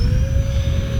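Twin 64mm electric ducted fans on an E-flite A-10 Thunderbolt II RC jet spinning up, a loud close steady whine with a rising tonal pitch over a rumbling airflow, with no voices.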